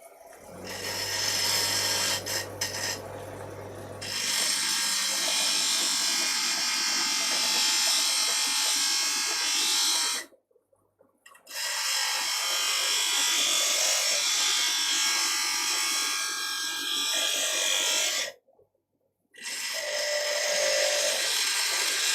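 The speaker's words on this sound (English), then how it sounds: "I'm going to use my roundhouse scraper. Just give it a quick sharpen." A roundhouse scraper for woodturning is sharpened on a powered grinder, giving a loud, steady, hissing grind in long passes with two short breaks of silence between them.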